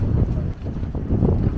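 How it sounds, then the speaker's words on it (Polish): Strong wind buffeting the microphone at a coastal viewpoint near Marbella or Torremolinos, a loud, low rumbling roar that swells and dips in gusts, with no voices. "Już się wiatr zbiera powoli. Nawet nie powoli, dobra. Ładnie przypizgało tu."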